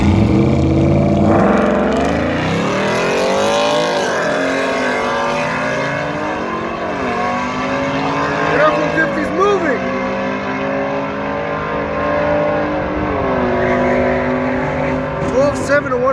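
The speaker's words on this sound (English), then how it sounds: "That F-150 is moving." A Ford F-150 truck with a 5.0 engine races down a drag strip, its loud engine note rising and sweeping through repeated gear changes for the full run, with crowd voices talking over it.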